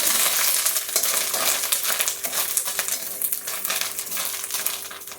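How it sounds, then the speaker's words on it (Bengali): Grated coconut fries in a pan for a vegetarian dal dish, giving a steady close crackling sizzle with brief stirring scrapes throughout, no voices. "নারিকেল ভাজা হয়ে গেছে।"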